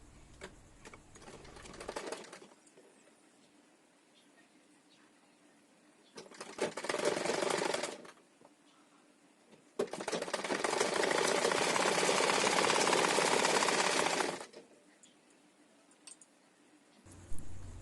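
A sewing machine stitches a blouse in several bursts of rapid mechanical whirring, a short one near the start, another mid-clip and a longer run, separated by quiet pauses.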